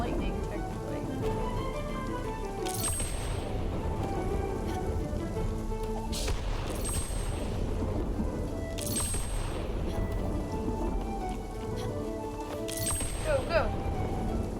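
Steady rain pours throughout a storm in the Spiritfarer video game, with several sharp bright crashes recurring every few seconds over a dense, hissing downpour and game music, while a person talks over it.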